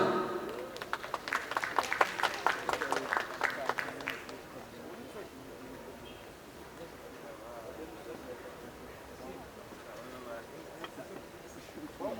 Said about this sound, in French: Donc un maximum d'applaudissements